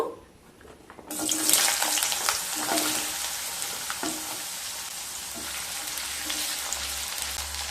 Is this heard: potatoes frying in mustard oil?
yes